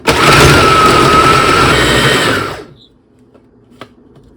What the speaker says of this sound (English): Now I will mix it up. You could use a blender, a mixer, a food processor, whatever you have.